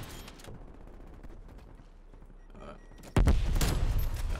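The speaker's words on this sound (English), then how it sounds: "I'm gonna lose my mind with LMGs today." A light machine gun in a Prop Hunt shooter video game opens up in a loud sustained burst after a quieter stretch of game ambience.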